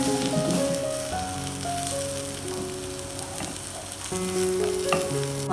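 An egg frying in a pan for a breakfast sandwich gives a steady, close sizzle and crackle throughout, with a faint tonal hum running underneath and no voices.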